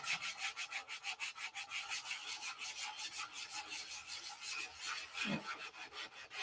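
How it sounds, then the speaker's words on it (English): Rapid rhythmic rasping of a small piece of sandpaper held on the fingers rubbed back and forth over wood on a P-47 model wing fillet, steady strokes about three times a second, close and fairly quiet. "you stick a little piece of sandpaper on your fingers and"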